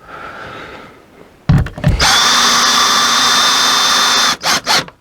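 A power drill drives screws into a wall backed by a metal plate: a short burst of whirring, then a loud sustained high-pitched whine lasting a couple of seconds, followed by two brief trailing pulses.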